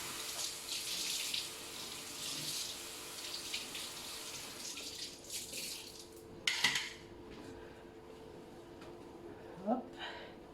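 Water rinsing a surface just cleaned with clay stone, a faint steady trickle and splash like running tap water, with a couple of brief clatters near the end, no talk.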